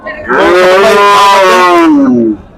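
Cattle at the Hazratpur cow market in 2024 give one long, loud, close moo that rises and then falls over about two seconds, with no other sound around it.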